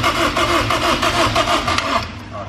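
A turbocharged Honda S2000 cranks over without catching, a steady rhythmic starter churn that runs loud and close for about two seconds before tapering off, with no voices over it.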